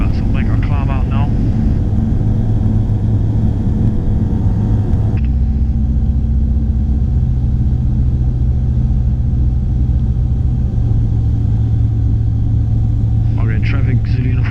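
A light aircraft's engine drones loud and steady through climb-out after takeoff from Durban, a continuous rumbling hum that holds throughout, with faint voice fragments briefly near the start and end.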